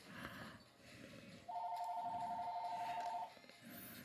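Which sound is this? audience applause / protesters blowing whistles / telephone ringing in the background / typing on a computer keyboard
telephone ringing in the background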